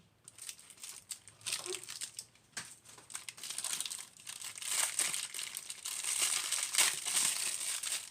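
Plastic packaging from a haul of resin molds being cut and torn open, with crinkling, rustling and crunching that build steadily louder nearby and carry on throughout.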